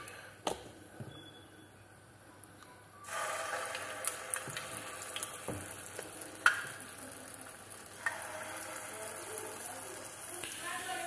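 Food laid one by one into hot oil heated on a griddle sets off a steady sizzle that jumps louder partway through, with scattered clicks and scrapes of utensils; fairly close, with no talking.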